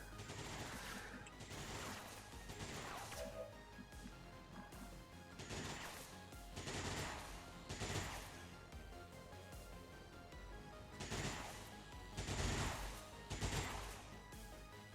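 Suppression fire in the video game XCOM Long War of the Chosen: repeated bursts of rapid automatic gunfire with crashing impacts, coming in clustered volleys over a low game soundscape.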